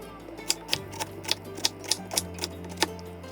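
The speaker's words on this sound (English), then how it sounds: "Ginger cleaned and cut into small pieces." Knife cutting cleaned ginger into small pieces for brown sugar ginger tea, a series of about a dozen sharp, fairly regular taps against a board, moderately close, over a low steady hum, with no talking.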